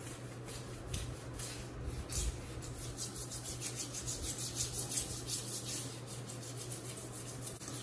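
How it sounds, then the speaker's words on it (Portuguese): Close, rhythmic rasping strokes of a soft brush scrubbing dirty tile grout with salt, a steady back-and-forth scratching with no talk. "Mesmo momento eu já começo a esfregar um pouquinho."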